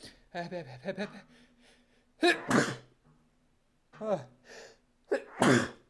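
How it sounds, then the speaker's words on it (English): A man sneezes twice in a row while playing a card game, each sneeze a sharp close burst preceded by a quick gasping intake, with short bits of talk before them. "Hold on, I'm gonna sneeze, I'm sorry."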